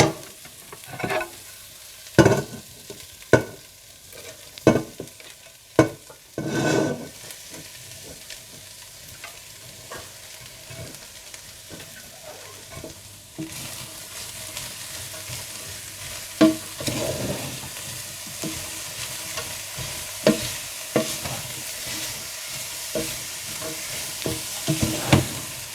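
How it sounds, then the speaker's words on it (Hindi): Chicken and mixed vegetables frying in a pan and being stirred, with loud, distinct scraping strokes early on that settle into a continuous sizzle marked by lighter, irregular stirring knocks throughout. "जब चिकन अच्छा सा भुन जाए तो इसमें सारी सब्जियां डालकर मिला लें।"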